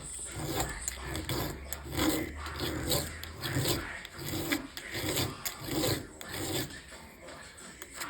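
Repeated rasping strokes of a flat file across the depth-gauge rakers of a chainsaw chain, set to 25 thousandths, steady back-and-forth scraping close up with a low hum under the first few seconds.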